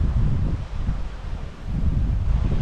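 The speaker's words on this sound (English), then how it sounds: "Weather's perfect still, it's nice and windy." Steady low rumbling wind buffeting outdoors at a carp-fishing spot, loud and continuous with gusty swells, no voices.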